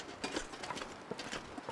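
A horse's hooves clop in a slow, even walking rhythm in the video game The Long Dark, soft and fairly close, with no speech.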